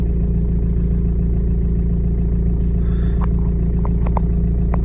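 Renault Megane MK3 1.5 dCi K9K diesel engine with a loss-of-power fault, a steady loud low rumble as the accelerator goes down, with a few faint clicks near the end.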